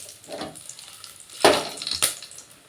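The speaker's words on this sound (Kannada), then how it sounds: "ಎಣ್ಣೆ ಕಾದ್ಮೇಲೆ ಸ್ವಲ್ಪ ಸಾಸಿವೆ, ಕರಿಬೇವು ಸೊಪ್ಪು, ಮೆಣಸಿನ್ಕಾಯಿ ಹಾಕಬೇಕು" Mustard seeds, curry leaves and chillies hit hot oil in a pan, producing sharp crackling sizzles and two loud spluttering bursts over a quieter background, with no talking.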